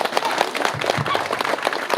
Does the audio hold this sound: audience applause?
yes